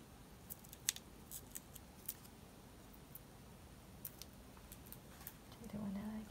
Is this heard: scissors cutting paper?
yes